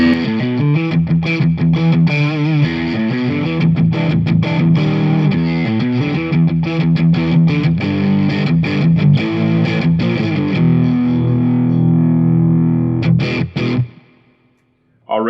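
ESP LTD ST-213 electric guitar on its second pickup position through overdrive, a thick distorted riff of chords and single notes played alone and loud for about fourteen seconds before cutting off.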